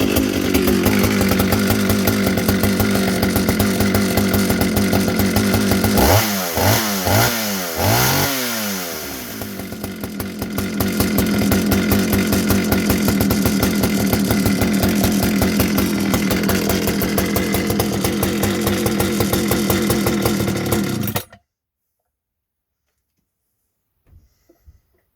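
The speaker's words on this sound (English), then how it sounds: "a lovely example of a Swedish chainsaw" A Husqvarna Partner 7000 Plus chainsaw, recently repaired, runs loud and close with a rough, buzzing two-stroke drone, revving up and down a few times early on before holding steady and then cutting off abruptly.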